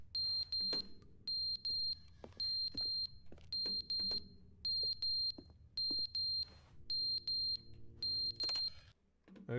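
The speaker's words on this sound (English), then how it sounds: "I gotta kill that beep beep." An alarm in The Stanley Parable video game beeps in repeated clipped bursts of high electronic tones, loud and close, with faint thuds and room noise between bursts.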